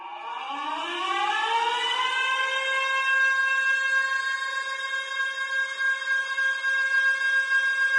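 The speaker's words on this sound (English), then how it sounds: "And then the sirens go off." Sirens in the Hatoful Boyfriend video game: a civil-defense-style siren winds up in pitch, then holds a loud, steady wailing tone with slight wavering, alone with no talk.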